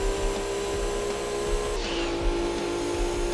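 A Suzuki Escudo race car engine in a retro racing game drones steadily at high revs, a continuous buzzing whine with a slight shift in pitch partway through.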